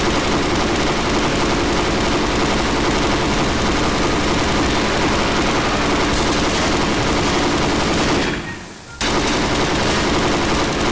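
An automatic rifle in Garry's Mod fires in a dense, continuous stream of loud, close shots, broken by one brief pause near the end before the firing resumes.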